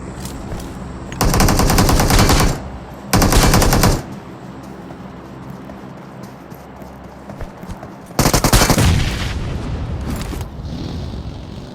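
Loud bursts of rapid automatic gunfire in a battle royale shooter game come in two long volleys near the start and a longer one later, separated by quieter engine-like rumble, with no voice.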